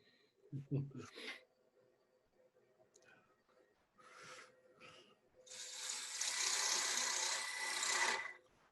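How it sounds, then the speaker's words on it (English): A bowl gouge turns out the center of a wooden bowl on a lathe, a brief scrape and thump, then a sustained, moderately loud hissing cut near the end, with a person talking early on. "So I just want to turn the center out of this bowl."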